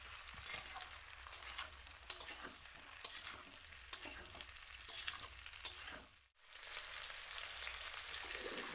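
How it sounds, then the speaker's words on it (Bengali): Fried chicken pieces sizzle in a pan as they are stirred into a sauce mixture for chili chicken, with scraping and clattering strokes over a steady crackle. After a brief drop, the frying hiss continues alone. "এবার যে মাংসগুলো ভেজে রেখেছিলাম সেটা আমরা ওই মিক্সারের মধ্যে দিয়ে দেব,"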